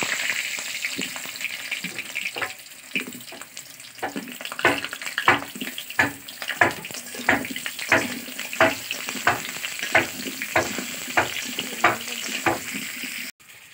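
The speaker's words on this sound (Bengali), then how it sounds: "তেলটা গরম হয়ে গেছে, তেল তো গরম হয়ে গেছে, এবার আমি আলু দিয়ে দেবো। আলুগুলো ভালো করে ভেজে নেব।" Potato pieces frying in hot oil in a wok in a small home kitchen, a steady loud sizzle with a regular run of stirring scrapes, roughly one every half second, and no voices.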